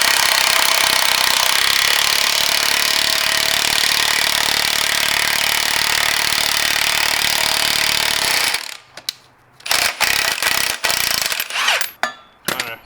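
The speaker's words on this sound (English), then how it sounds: "This is to remove the rear trailing arm bushings from the E36 chassis." A repurposed socket-and-bolt press tool forces a rear trailing arm bushing out of an E36 BMW chassis, with a loud, steady grinding mechanical roar for most of the clip, then breaking into short clanking bursts and pauses near the end.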